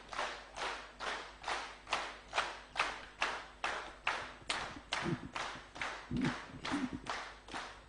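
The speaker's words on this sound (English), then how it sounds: "A befitting clap to receive His Excellency the President." An audience at an NRM MPs-elect retreat claps to welcome the President. The claps are steady and rhythmic, with roughly two beats a second, held at moderate loudness for several seconds without speech.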